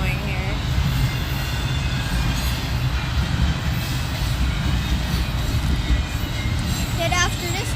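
Kansas City Southern freight train rolling past with a continuous low rumble and rattle of rail cars, steady and close throughout, while a voice talks over it.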